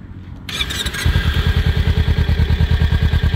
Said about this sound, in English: That is the idle of the motorcycle.